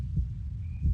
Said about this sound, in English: His heartbeat.